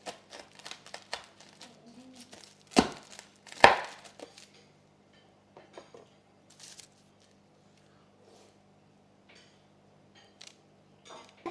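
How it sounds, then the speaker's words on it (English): Baked Florentine brittle, still hot, cut into pieces with a knife: scattered soft crunchy cuts, two loud sharp cracks close together, then quieter sporadic taps, and no talking. "When it is still hot, cut it into pieces."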